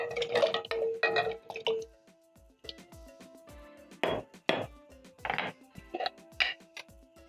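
Potatoes dropped into a pot holding two cups of water on a high-flame burner, giving a burst of clunks and splashy clinks, then scattered knocks and watery plops at close range with no talk.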